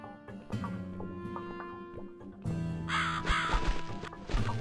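A crow caws repeatedly in The Cat Lady horror game, rough calls rising over steady background music with occasional knocks and thumps.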